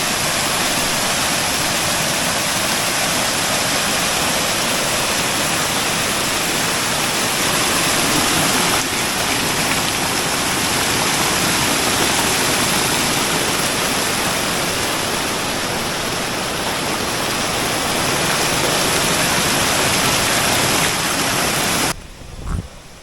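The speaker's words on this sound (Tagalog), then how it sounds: "Yung agos ng tubig na mag-walk." Flowing water of a stream at a hidden campsite in Indang, Cavite among old trees, a loud, steady rushing wash like a small waterfall that continues alone before cutting off near the end.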